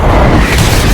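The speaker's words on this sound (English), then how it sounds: "Frank gets up and shoots the tires of the Dogs of Hell's motorcycles, causing a massive explosion." A massive explosion as motorcycles are shot through their tires in a violent action scene, a loud, dense, sustained roar of blast filling the whole short moment with no speech.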